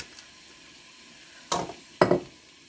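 Olive oil heating in a pan breaks into two short, sharp sizzling bursts, one close after the other, after a quiet start.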